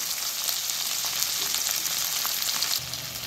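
Potatoes and tomatoes sautéing in a pan give a steady, close hiss of frying, with faint stirring scrapes and a brief bump near the end; no voices.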